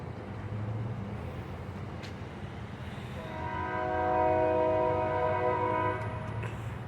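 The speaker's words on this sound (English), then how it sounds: "I just want to see that I heard an Amtrak San Joaquin." An Amtrak San Joaquin passenger train rumbles past on a foggy day in Fresno, and midway its horn sounds one sustained chord that swells and then fades as the train keeps rolling.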